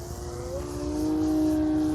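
A SkyWing 48-inch Edge 540 RC plane's engine runs at partial throttle, a steady, fairly loud high-pitched buzzing drone that rises slightly in pitch and holds, heard outdoors without talking.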